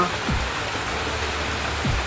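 A constant heavy wash of rain fills the clip, broad and unbroken, with a couple of low whooshing sweeps passing through.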